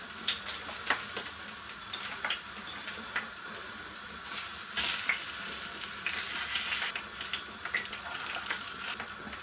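Two kinds of sausages sizzle and spit in hot oil in a new pan, a steady close crackle with scattered sharp pops and no talking.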